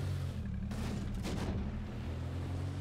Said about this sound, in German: Da drüben kommen Schüsse.